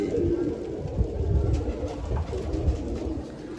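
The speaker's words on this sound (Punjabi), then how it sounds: "ਵੇਖੋ ਕਬੂਤਰ ਚੁਗੀ ਜਾਂਦੇ" Soft pigeon cooing drifts over a busy, rumbling background, low and continuous, with faint scratchy movement throughout as the pigeons peck grain.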